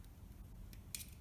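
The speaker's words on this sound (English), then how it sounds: "so we need to cut it" Scissors snipping greenery while making an Advent wreath, a couple of faint, quiet cuts over a low background hum.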